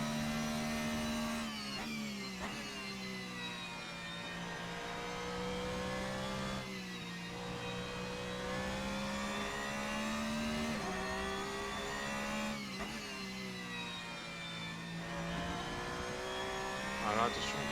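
A race car engine in the Assetto Corsa video game, revving and shifting through gears with a steady, droning whine that rises and drops several times, heard under speech.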